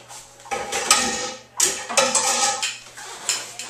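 Metal forks and tongs clink and scrape against a pan of braised pork, several sharp irregular clatters and scrapes close by, separated by brief pauses.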